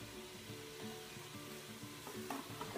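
Minced meat and onion being stirred in a pan. A quiet, soft sizzle runs under gentle, irregular scraping and stirring motions.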